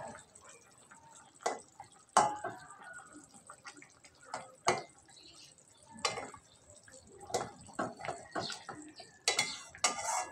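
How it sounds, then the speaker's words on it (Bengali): Spices and sugar being stirred in a cooking pan for pointed gourd dolma, with scattered light scrapes and clinks of a spoon against the pan, fairly quiet and irregular. "চিনি দিয়ে আমি হালকা করে নাড়িয়ে ছাড়িয়ে দেবো।"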